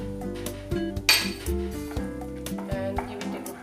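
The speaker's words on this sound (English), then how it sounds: "Now add the cashew nut pieces" Cashew nut pieces go into a bowl for sugar-free jaggery choco pieces, giving a few light clinks and taps against the bowl over steady background music.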